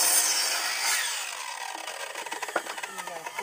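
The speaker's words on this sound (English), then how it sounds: "when you're doing little bits of trim, you have to cut it twice" A Harbor Freight power saw cuts through a small piece of wood trim, a continuous rasping whine that rises and then gives way to choppy, rhythmic sawing strokes near the end, close and fairly loud.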